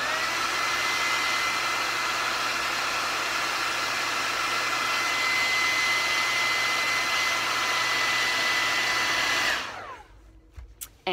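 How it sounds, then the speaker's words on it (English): A hair dryer on medium heat, used to warm an eyelash curler, blows a steady loud whooshing roar with a faint whine for about nine seconds, then switches off abruptly, leaving near-silence with a few small handling clicks. "I actually heat it up with my hairdryer"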